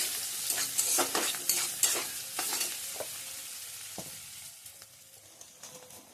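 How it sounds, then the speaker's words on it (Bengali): Vegetable curry frying and being stirred in a pan, a close sizzle punctuated by a run of sharp utensil scrapes and taps that thin out as the frying quietens toward the end. "তরকারি এদিকে ভাজা হচ্ছে"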